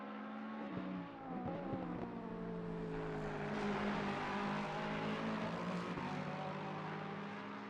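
Race cars lap Brands Hatch in the racing game Assetto Corsa Competizione, a steady, fairly quiet engine drone with pitch dips and rises as the cars brake and accelerate through corners.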